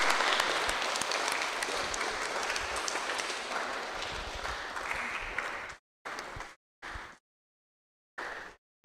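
Audience applause after an upper secondary school project presentation session, a dense steady clatter of clapping that carries on for several seconds, then breaks into short fading bursts separated by silence.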